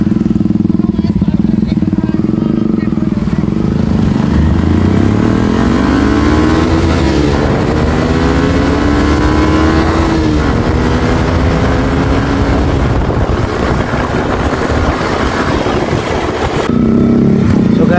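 At the start of a group ride, motorcycle engines idle and rev close by in a loud, continuous, throbbing rumble with rising revs. Someone speaks over the noise.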